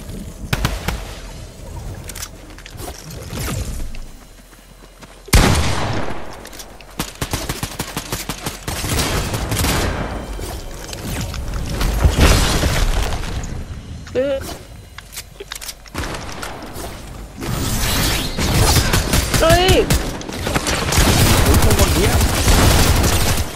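Gunfire in the video game Fortnite, loud rapid bursts of shots and sharp cracks that come in dense clusters, with a lull around the middle and a player talking through the action.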